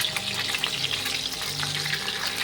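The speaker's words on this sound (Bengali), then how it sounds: "মাছের এক পিস ভাজা হয়ে গেছে, এবার মাছগুলো উল্টে দিচ্ছি।" Fish pieces for a Bengali fish curry frying in hot oil, a close steady crackling sizzle with faint tonal background hum, no talking.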